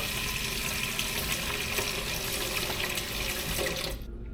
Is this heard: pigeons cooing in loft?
no